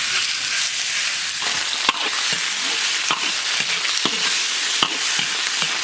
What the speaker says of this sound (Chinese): 锅里不倒油，直接下猪肉。